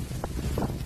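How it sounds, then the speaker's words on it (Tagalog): Strong hurricane winds lash coastal Cancun, Mexico, a dense, continuous roar with gusting swells and no voices. "Meron pa yang kidlat na sinabayan ng malalakas na hangin."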